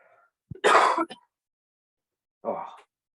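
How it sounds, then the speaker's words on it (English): A person clears their throat with a harsh, rasping cough, then pauses and gives a shorter, softer throat-clear close up. "I'm going to cough my life up."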